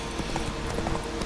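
Horse hooves clip-clop at a steady trot across ground in The Witcher 3: Wild Hunt. A brief run of even hoofbeats, moderately close, with no talking.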